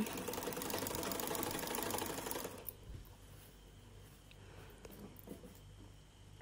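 A sewing machine runs a pressed stitch along the edges of lungi cloth, a steady close mechanical whir lasting about two and a half seconds before stopping, leaving a quiet room with faint small knocks.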